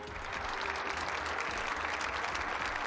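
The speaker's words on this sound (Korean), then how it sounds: "큰 박수 부탁드립니다" Steady applause from an assembled audience after officials sign an agreement at a Korean government regional industry ceremony, soft and distant, continuous broadband clapping throughout.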